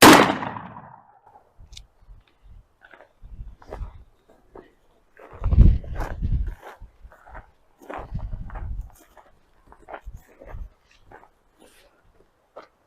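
A GForce GF99DLX shotgun fires number 4 shot at a pattern target, one sharp loud blast at the start with a ringing decay, followed by scattered speech and footsteps.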